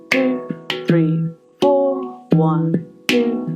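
Handpan struck in a simple steady groove, six clear resonant ringing notes spaced about half a second apart with harmonic overtones, close and alone with no talking.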